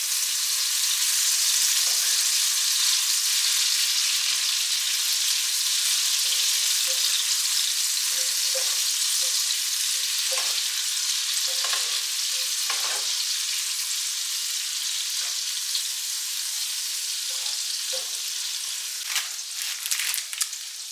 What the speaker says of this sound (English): let me put in just a little bit of garlic. Give that a pretty good stir.